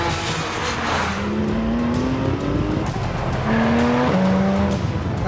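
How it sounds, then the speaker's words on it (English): A race car accelerates up close, engine droning through gear changes as its tires squeal in sustained, pitch-shifting screeches. "Now we'll get a chance to see how Patrick Dempsey really handles a race car."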